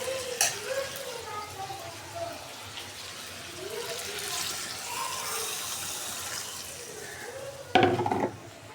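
Shrimp sizzle in a cooked-down spice paste in a pan, a moderate frying hiss with occasional stirring and a louder burst of sizzle near the end, while a person talks over it.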